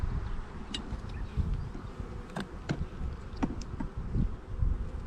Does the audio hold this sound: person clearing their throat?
no